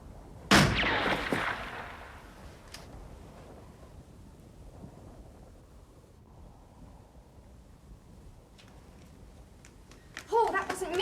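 A single sharp, loud gunshot cracks out in a radio drama, and a fainter crack follows a couple of seconds later. Between them lies a hushed, breezy ambience, and a rustling burst of noise returns near the end.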